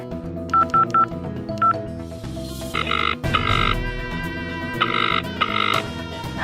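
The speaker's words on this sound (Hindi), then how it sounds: "आप एक बार स्नेहा को फोन करके देख लीजिए ना।" A telephone keypad dials a number, sending a quick run of distinct touch-tone beeps, some short and some held longer, clear and close with no talking.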